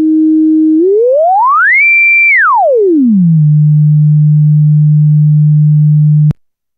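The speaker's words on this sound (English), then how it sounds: "so now you get very clean, round sine waves" Clean, round synthesizer sine wave from a CubuSynth engine, a loud pure tone that glides up in pitch, holds, drops below its starting point, then sustains steadily before cutting off abruptly.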